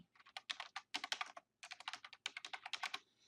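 Quick bursts of typing on a computer keyboard, close and crisp, in several runs of rapid keystrokes separated by short pauses, with no talking.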